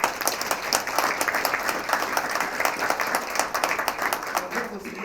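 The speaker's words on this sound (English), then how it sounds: "So give him a round of applause." Audience applause for a police detective at a NARCAN training session, steady dense clapping from a room of people lasting throughout, moderately loud, with some voices mixed in.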